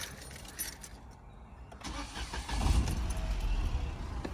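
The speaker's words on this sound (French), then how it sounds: "c'est un démarrage à l'ancienne avec clé" A Peugeot 208 Style 1.2 petrol engine with 82 hp starts on the key. A brief click and a cranking rattle come first, then the engine catches and settles into a steady, close idle hum.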